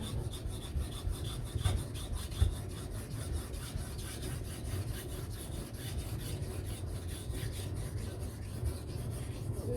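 A MagnaCut steel custom knife is worked steadily over a coarse sharpening stone, giving a continuous gritty rasping scrape with repeated strokes close up throughout.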